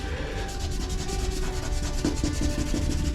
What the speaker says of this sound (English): Just use a rag.